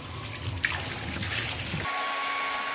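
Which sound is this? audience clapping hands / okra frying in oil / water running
water running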